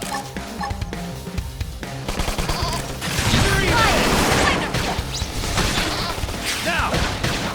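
Gunfire bursts out during combat in Xenoblade Chronicles X, with cracks, smashes and impacts layered over a busy battle soundscape, with a louder stretch in the middle and lighter hits after.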